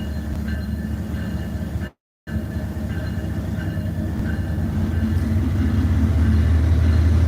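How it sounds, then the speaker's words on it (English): Amtrak locomotive 4706 rolls past with a steady rumble of wheels and engine, close and continuous, growing slightly louder toward the end, with no talk over it. "This is locomotive 4706."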